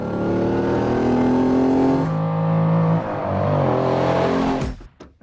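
Lamborghini Countach V12 engine revving hard, a loud sustained roar whose pitch climbs and shifts through the revs before cutting off abruptly near the end, close by and with no voices.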